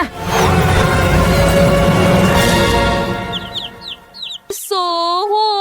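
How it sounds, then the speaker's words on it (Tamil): A chicken clucks loudly and close in a steady jumble of calls, then breaks into a few sharp rising squawks near the end. "கோழி அங்கே முட்டை உடைக்கிறது."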